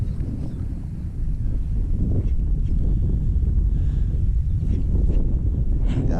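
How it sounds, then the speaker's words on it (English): Strong wind blows steadily across an open marsh waterway while fishing from a boat, a loud, continuous rushing roar with low microphone buffeting and faint gusty swells, no one speaking. "it's definitely getting windy"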